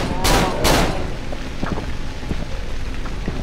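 Two loud gunshots ring out in Cry of Fear, booming close together near the start, then fade into a rain-like hiss with faint scattered clicks.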